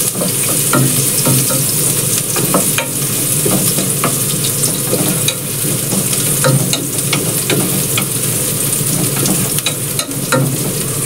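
Garlic and ginger sauté in a hot pan for chicken tinola, giving a loud, dense, continuous sizzle with scattered crackles and the occasional stir, close up and without speech.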